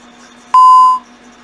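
An ADT Safewatch Ademco Vista alarm keypad gives a single loud, clear electronic beep lasting about half a second, close up in a quiet room.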